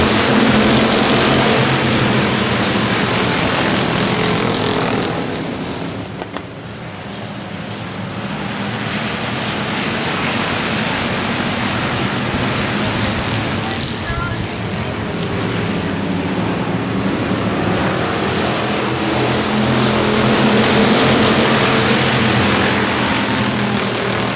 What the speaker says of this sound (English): Fire up those engines.